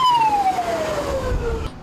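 An automatic fire alarm siren sounds loudly during a large fire-tactical drill at a building, one piercing tone sliding slowly downward and heard alone.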